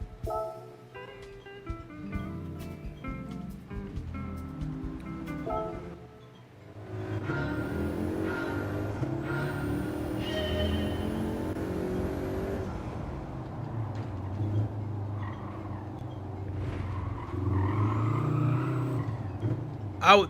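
Race car engine from Gran Turismo 7 lapping Trial Mountain Circuit, rising and falling through gear changes with whining upshifts, preceded by a stretch of musical chimes; a voice talks over it at times.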